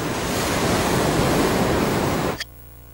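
Cartoon sea waves as heard inside a seashell: a loud, steady broadband rush that holds for over two seconds, then cuts off abruptly.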